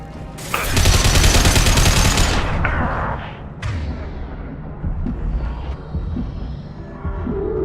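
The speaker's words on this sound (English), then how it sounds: "Firing now." Rapid bursts of space combat gunfire from the game Space Rangers 2, a dense loud volley for about two seconds, then scattered sharper shots and booms trailing off.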